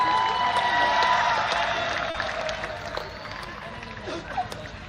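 A crowd gives a football team loud applause and cheering at a medal ceremony for an under-15 boys' tournament match, the dense clapping swelling at first and then easing slightly while it continues throughout.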